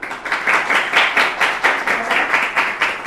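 An audience at a school results ceremony claps in a continuous, moderately loud patter of many hands for about three seconds, with no talk over it.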